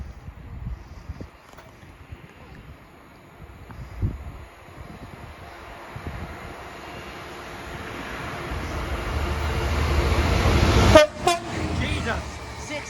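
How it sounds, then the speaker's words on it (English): A freight train running from Northampton Castle Yard to Guide Bridge approaches, its rumble building steadily to a loud close pass with a brief horn toot near the end, while a person talks nearby at the start. "another freight train is going to be passing through"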